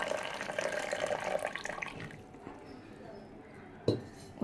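Water poured from a cup onto sugar in a pan for badusha syrup, a splashing trickle for about two seconds, then quiet with a single clink of a utensil.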